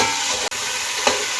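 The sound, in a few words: beef frying in a pan with garlic and ginger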